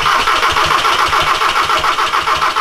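A Volkswagen Jetta GLI swapped with a 3.6-litre VR6 engine cranks and fires up in a shop, loud and close, settling into a steady pulsing run with no talk over it.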